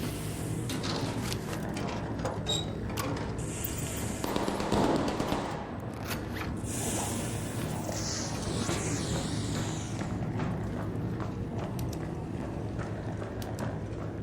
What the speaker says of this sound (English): I'm hearing lots of gunfire.